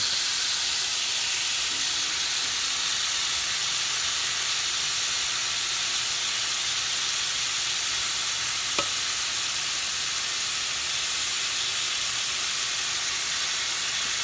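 Teriyaki mushrooms heating in a pan alongside Delmonico steak, giving a constant, even hiss and sizzle close up, with one faint click partway through and no voices.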